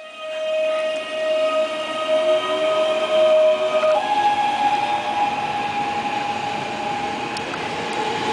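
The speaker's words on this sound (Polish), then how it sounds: "Jest odjazd pociągu osobowego Kolei Śląskich do Katowic, nagrane w Mysłowicach Kosztowach." Koleje Śląskie passenger train departing toward Katowice at Mysłowice Kosztowy at night, a steady loud rolling rumble with sustained tonal whine from the motors that shifts pitch midway, heard alone without voices.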